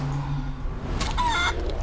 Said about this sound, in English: Turn him into a chicken.